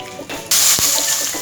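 Water pours into a hot pan of raw mango chutney with jaggery cooking in oil, a sudden loud hiss that follows a brief softer rustle.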